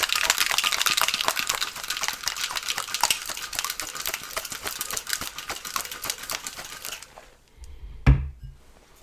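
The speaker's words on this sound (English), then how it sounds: "we're going to shake it vigorously without upsetting Mookie" A cocktail shaker with ice is shaken hard for a Blood and Sand cocktail, a fast steady rattle close to the mic that runs about seven seconds, then stops with a single knock.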